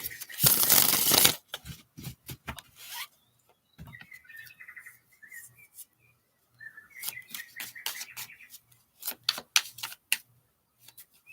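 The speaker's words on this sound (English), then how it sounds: "Shuffle these cards a little bit." Tarot cards are shuffled in short bursts of papery riffling and tapping, with a loud rush at the start and scattered soft clicks after it. No one speaks over it.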